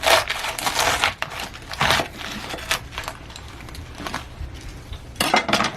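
Knife slicing through a bundle of crisp romaine lettuce on a cutting board, a series of crunchy, crackling cuts in irregular bursts, close and loud, with no talk.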